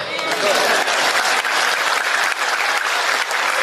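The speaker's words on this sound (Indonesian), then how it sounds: "Mana tepuk tangannya?" A crowd at an Islamic lecture bursts into steady, loud applause, dense clapping that continues evenly throughout the short stretch with no voice over it.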